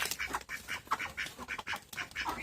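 Domestic ducks on a home farm quacking in quick repeated bursts, several calls overlapping at close range with no voices.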